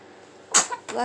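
A baby sneezes close by, one sharp bright burst followed by a softer breathy catch, brief and alone against faint room noise.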